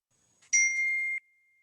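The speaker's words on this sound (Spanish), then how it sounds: "Cuando escuchen la campana, por favor cierren los ojos" A single bell rings once to open a breathing exercise, a bright clear tone that rings on briefly and then cuts off, heard alone in a quiet room.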